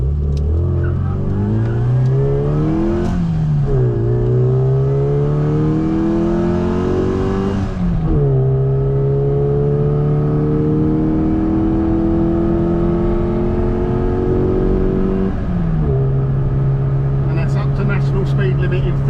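A Mini Cooper S Sport 5 engine accelerates hard through the gears, each rising rev climb broken by a gearchange dip, loud and close inside the car, before it settles into a steady cruise.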